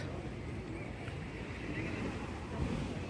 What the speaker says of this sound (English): The waves are amazing.